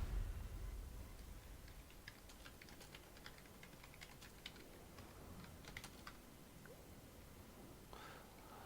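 Quiet, irregular clicking of typing on a computer keyboard, a run of light keystrokes that fades into a few scattered taps over low background noise.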